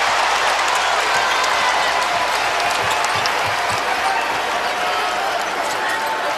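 A college basketball arena crowd roars loudly and continuously, a dense wash of cheering voices with scattered claps and shoe squeaks beneath it, and an announcer's voice heard over the noise.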